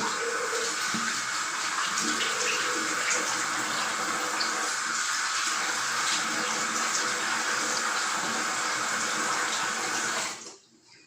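Warm water runs steadily from a tap with a bright hissing splash, wetting a head before shaving, close by, for about ten seconds before cutting off abruptly.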